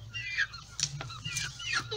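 Ornamental chickens and roosters on a farm, clucking and squawking calls scattered at moderate distance over a low steady hum, a few sharp cries standing out.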